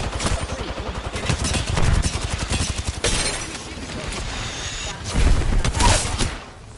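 Rapid, loud automatic gunfire from Apex Legends rattles in long bursts, with heavier impacts and brief pauses between volleys, and a voice speaks over the shooting.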